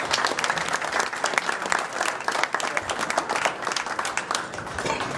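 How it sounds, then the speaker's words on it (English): A dense, steady round of applause from an audience at a Mayor's Night Out civic meeting, many hands clapping together close by and fairly loud, holding at an even level throughout. "Give a big round of applause, everybody."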